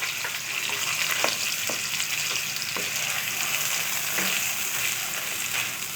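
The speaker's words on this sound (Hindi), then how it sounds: "यहाँ एक कढ़ाई में घी हमारा अच्छे से गर्म हो गया है और अब हम उसमें डालेंगे मसाला और इसे अच्छे से फ्राई करेंगे।" Masala frying in hot ghee in a kadai, a faint, steady crackling sizzle with occasional soft stirring scrapes and no voices.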